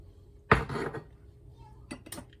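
Two celery stalks with their leaves dropped into a crockpot for tortellini soup, landing with a close clinking thud against the pot, then a couple of lighter knocks as the stalks settle.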